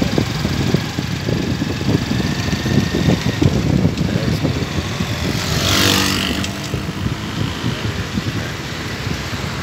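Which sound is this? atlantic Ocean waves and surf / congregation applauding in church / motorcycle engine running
motorcycle engine running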